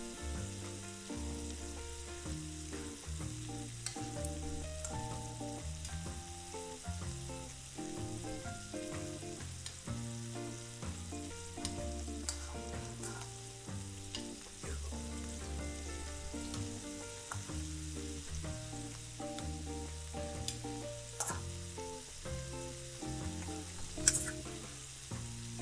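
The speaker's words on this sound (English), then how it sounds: "And here just a little bit of sizzling, which is great." Steady crackling sizzle of shrimp frying in butter and oil in a hot skillet, continuous and fairly quiet, with occasional sharper pops and no voices.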